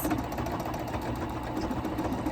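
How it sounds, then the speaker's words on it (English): A Juki F600 computerized sewing machine stitches out typed letters, giving a steady, continuous motor whir with a rapid needle chatter throughout, close and moderately loud with no talk. "It's gonna stitch out my letters."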